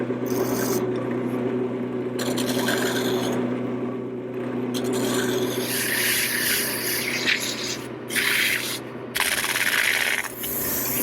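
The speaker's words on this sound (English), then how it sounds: "Now a little detail work with my small gouge." Small gouge cutting detail on a wooden table leg spinning on a lathe, a continuous rough scraping hiss over the steady hum of the machine, with brief breaks and changes in tone as the tool moves.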